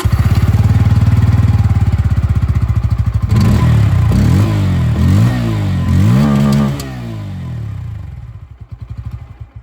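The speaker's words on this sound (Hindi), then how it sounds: "अंडरबेल एग्जॉस्ट मिलता है, इसकी भी आवाज़ सुना दूँ।" A Bajaj Pulsar N160 with its underbelly exhaust, idling with a steady, loud, close thrum and then blipped through several sharp rising-and-falling revs before settling back to a chugging idle.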